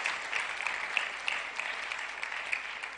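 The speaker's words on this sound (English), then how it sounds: "Please, let's clap again for the Honorable Minister for Finance." Audience applause for the Minister of Finance at a Ghanaian youth dialogue event, a moderate, even patter of many hands with a few sharper claps standing out, continuous across the whole stretch.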